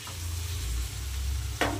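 Vegetables and washed dalia fry together in a pan, a steady close sizzle with the scrape of stirring and a sharper clatter near the end.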